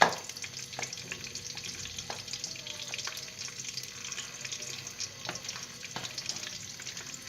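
Bottle gourd (lauki) frying in desi ghee, a steady soft sizzle with occasional stirring scrapes and faint clinks, fairly quiet and close, with no voices.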